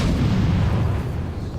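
A grenade goes off in Batman: Arkham City as a loud, sustained low boom that rolls on for well over a second and then slowly eases off, with no voices over it.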